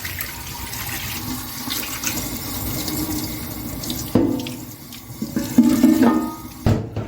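Water runs from a tap in a steady splashing stream, close and fairly loud, with the flow shifting and a few knocks and clatters from dishes near the end.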